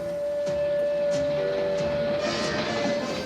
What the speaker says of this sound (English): This vintage diesel locomotive hauled the freight trains that built America in the post-war years.